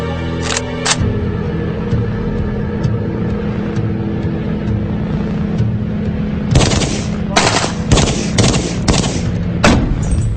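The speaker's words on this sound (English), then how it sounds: "Shooting like this causes muzzle climb, which pulls your aim way off target." Fully automatic gunfire from 30-round magazines at a target, with a brief burst at the start, a steady engine-like drone, then a rapid cluster of loud bursts near the end.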